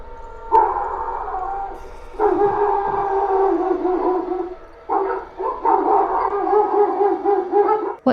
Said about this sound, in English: leaving the neighborhood dogs barking in a frenzy